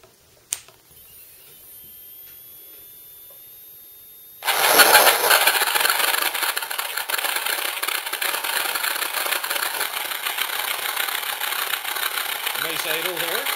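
An RC sound module imitates a Wright Cyclone aircraft radial engine, clicking on and then starting abruptly into a steady rough idle that continues evenly, with a person talking over it.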